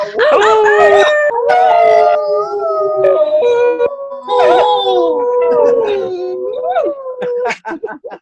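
Several people on an online call imitate coyote howls, with long, wavering, overlapping vocal howls, yips and whoops rising and falling over eight seconds, loud and close.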